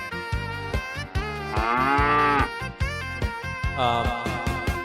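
A calf moos loudly and close by, giving several drawn-out bellowing calls in quick succession with short breaks between them.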